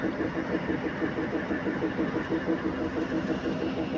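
Mangalore-bound train pulled in at Karur station on a cold early morning, its diesel engine idling in a steady low rumble with a continuous pulsing throb, no talk.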